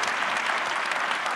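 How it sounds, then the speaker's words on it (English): A crowd applauds the panel at a Go-Go 101 event on the Millennium Stage, dense clapping from many people that stays loud and even for the whole stretch. "give our panel a round of applause"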